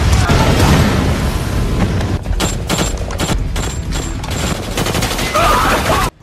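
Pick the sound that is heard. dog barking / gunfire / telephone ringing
gunfire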